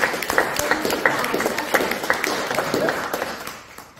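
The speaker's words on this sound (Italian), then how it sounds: "La salutiamo intanto con un applauso che non abbiamo fatto all'inizio." Audience applause at a book presentation in Fagnano Olona, a steady patter of clapping from a room of listeners that tapers off toward the end, with faint voices mixed in.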